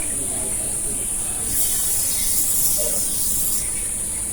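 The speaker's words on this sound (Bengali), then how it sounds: "প্রথমে আমি কালো জিরা ভাজা দেব" Black cumin seeds fry in hot oil in a wok, giving a steady loud sizzling hiss that swells midway and holds throughout.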